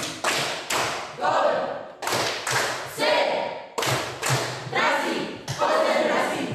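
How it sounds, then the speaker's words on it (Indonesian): Children in a classroom clapping a concentration clap rhythm together, sharp group claps in repeated patterned bursts alternating with chanted voices. "Tepuk konsentrasi."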